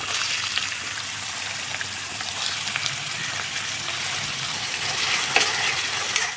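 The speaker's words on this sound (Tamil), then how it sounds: "எண்ணெய் சூடானதுக்கப்புறமா நம்ம கட் பண்ணி வச்சுருக்க 2 ஆனியனை நான் ஆட் பண்ணிக்கிறேன்." Chopped onions sizzle and fry steadily in hot oil in a pan, a continuous close crackling hiss with occasional louder pops and stirring scrapes, no voices.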